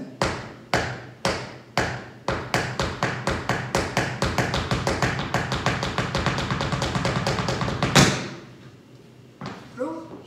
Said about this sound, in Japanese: ヒールドロップだ。